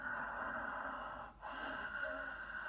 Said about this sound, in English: That raspy, silky, whistling ujjayi breath, victorious breath, seashore breath even.